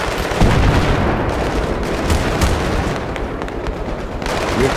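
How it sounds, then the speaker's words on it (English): Battlefield 3 co-op combat with RPG explosions and gunfire, a dense, continuous barrage of loud booms and shots that keeps up without letup. "you hear those RPGs?"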